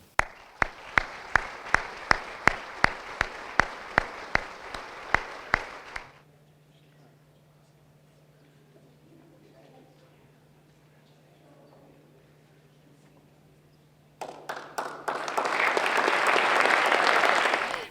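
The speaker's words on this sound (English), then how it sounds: "Let's give a round of applause to the new OPO Digital Startups facility" At a partnership celebration, rhythmic unison clapping beats steadily for about six seconds, then near silence with a low hum, before a burst of full audience applause swells loudly at the end.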